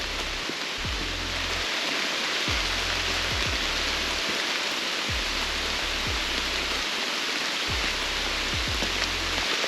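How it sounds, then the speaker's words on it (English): Heavy rain pours through forest trees on a hiking trail, a dense, unbroken hiss that stays loud and even throughout, with low rumbling thumps recurring underneath and no voices. "I can't tell without this rain falling through the trees"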